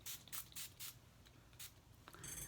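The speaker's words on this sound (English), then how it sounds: "grab my Rainforest of the Sea setting" Setting spray mists onto a face in several short, soft hissing bursts, close and quiet, with brief pauses between pumps.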